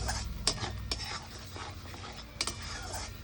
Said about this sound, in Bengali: মশলাটা এবার ভালো করে কষিয়ে নিচ্ছি।